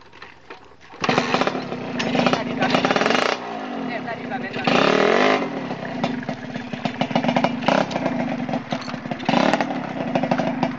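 A motorcycle engine at a car care shop is restarted and revved hard several times: loud, close bursts of rasping revs rise and fall between rougher idling, with someone talking over it.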